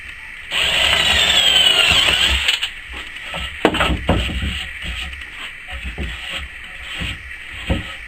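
Power drill whirs loudly for about two seconds driving a screw into a scaffold board, followed by clunks, taps and handling knocks of the wood and tool nearby.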